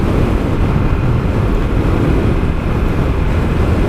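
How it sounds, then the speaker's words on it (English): Strong wind buffets the rider of a dual sport motorcycle fitted with a homemade windscreen, producing a loud, constant low roar and rumble of air and engine with no break throughout. "There's quite a strong wind."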